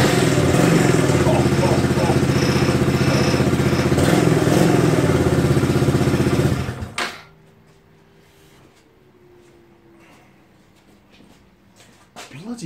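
A farm motorbike engine runs loud and close with a rough, steady drone, then cuts out abruptly, leaving quiet room noise and faint clatter.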